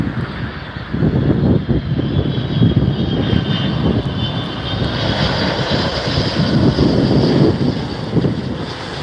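An Airbus A380 airliner departing LAX airport, its engines producing a loud, steady roar with a rising whine, mixed with gusting wind noise on the microphone and no talking.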